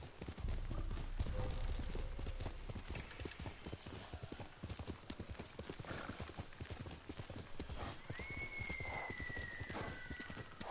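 Horse hooves clip-clopping in a steady, rapid rhythm while riding in the video game Ghost of Tsushima, with a brief whinny and game ambience mixed in.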